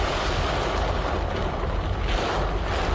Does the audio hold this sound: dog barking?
no